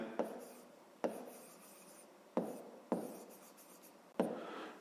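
Pen or pencil writing on paper, soft scratchy strokes with several sharp taps marking new marks, faint and close, with no talking.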